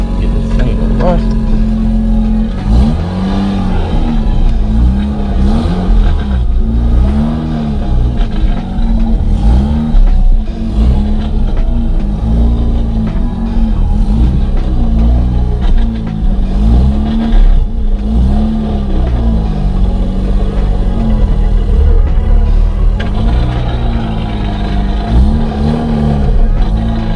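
A Mazda RX8 drives on its new replacement transmission, the engine humming and revving steadily up and down close by throughout, with a person talking over the drone.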